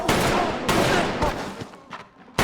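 Rapid gunfire from a Squid Game episode, a burst of several sharp shots in quick succession with ringing tails, tapering into sparser, fainter cracks and one final loud shot.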